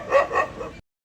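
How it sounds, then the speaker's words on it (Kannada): A dog barks two or three times in quick succession, close and fairly loud, each bark short and sharp, then the sound cuts off abruptly into silence. "ಈ ನಾಯಿ ಬೇರೆ ಬೋಗ್ಲತ್ತಲ್ಲ"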